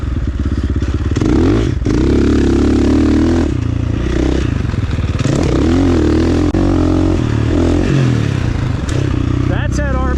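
A motocross motorcycle on a Florida track revs hard and steadily, its loud, close engine roaring through the whole stretch with rises and dips in throttle, while a rider talks over it.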